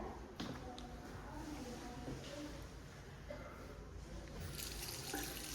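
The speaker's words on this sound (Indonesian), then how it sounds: "kita akan melakukan hand wash atau cuci tangan menggunakan keran air dan sabun." Tap water runs steadily and softly into a sink while hands are washed with soap, a low continuous splashing with occasional small knocks, fairly quiet and close.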